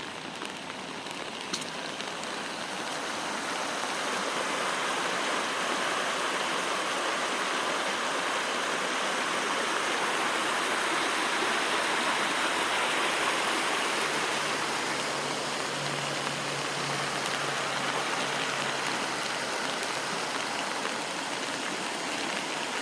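Steady rain falls alongside water running into a retention pond, a dense continuous hiss of rain and flowing water throughout, with a faint low rumble in the middle.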